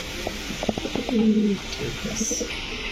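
Pigeons kept for sale coo nearby: soft, low, rounded calls in a short burst around the middle, with faint background chatter.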